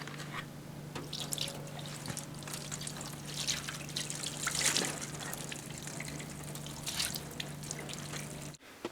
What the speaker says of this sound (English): Then rinse it off with fresh water.